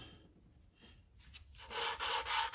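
A new valve being lapped on a 2009 Honda Fit, making a soft close rubbing and grinding scrape that grows louder toward the end, quiet with no voices.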